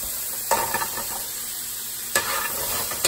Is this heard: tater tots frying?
yes